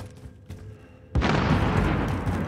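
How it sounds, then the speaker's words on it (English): In Call of Duty Warzone, a sniper rifle shot fires close by, a sudden heavy boom followed by a rumbling echo tail, preceded by faint quieter game ambience. "That sniper shot sound really close"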